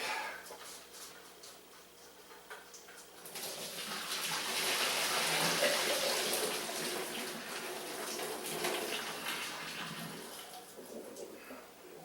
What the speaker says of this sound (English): I'm just going to drain them